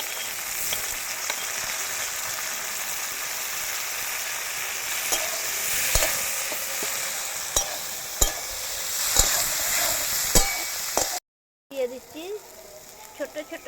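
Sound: crushed tomatoes and capsicum frying in oil

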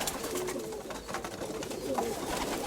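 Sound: pigeons cooing

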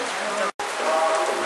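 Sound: heavy monsoon rain

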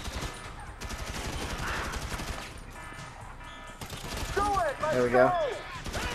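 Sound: gunfire in GTA 5 video game

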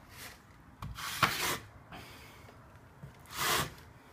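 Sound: trowel spreading tile mastic

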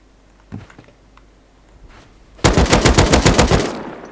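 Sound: gunfire in a video game

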